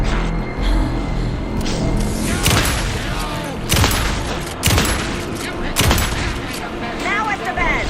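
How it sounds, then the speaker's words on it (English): Bursts of gunfire in Alan Wake 2 crack repeatedly over a dense, booming battle din, with several sharp loud volleys spaced a second or so apart. "Anderson, pin him down with gunfire for me to get the light on him"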